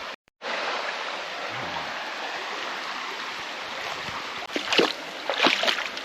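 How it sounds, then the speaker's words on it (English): Water rushes continuously during a cooling dip in a stream after a run, with a few sharp splashes near the end as someone moves through the water. "Down now for a dip in the water to cool down the legs."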